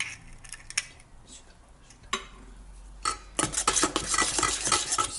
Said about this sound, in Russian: Все, и мешаем.